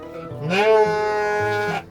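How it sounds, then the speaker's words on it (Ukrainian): A Dorper sheep gives one long, close, wavering bleat during feeding at a farm, loud and clear, trailing off at the end. "сьогодні годує вівці породи Дорпер на агрофірмі Базис"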